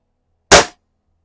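A single sharp airgun shot snaps out at a splatter burst target, one loud, brief crack standing alone in silence.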